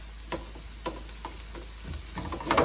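Onions frying in a pan on medium-high heat, a soft steady sizzle broken by several sharp scrapes and taps of a spatula stirring, close up with no voices.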